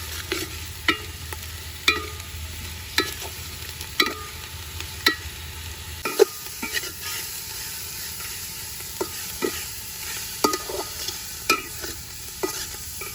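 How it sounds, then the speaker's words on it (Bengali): Green chillies fry in a pan for chicken gizzard dum biryani, a low constant sizzle under regular spoon taps and scrapes roughly every second, close and fairly quiet, with no voices. "এই কটা কাঁচা লঙ্কাও দিয়ে দিচ্ছি। ভালো করে ভেজে নেব।"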